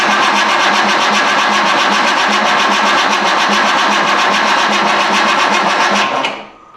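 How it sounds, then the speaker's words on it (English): A Datsun 280Z engine cranks steadily and loudly for several seconds to build oil pressure, with a rapid, even churning rhythm, then winds down and cuts off. "I'm gonna crank it a bit more and see if we get oil pressure."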